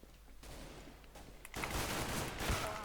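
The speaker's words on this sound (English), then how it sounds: "How bad is this weapon? It's a Glock." Bursts of Glock pistol gunfire in Counter-Strike: Global Offensive, a dense rapid volley of game shots that grows louder in the second half.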